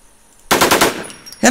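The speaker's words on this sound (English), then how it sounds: "I'm shooting at him." Automatic gunfire from the Warz video game, a close, loud burst of rapid shots that breaks off briefly and then resumes at full volume.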